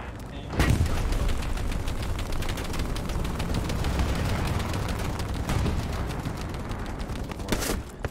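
An MG42 machine gun fires in the World War II shooter Hell Let Loose, a continuous rapid stream of loud, close bursts over a battlefield din, with a heavier blast near the start and another at the end.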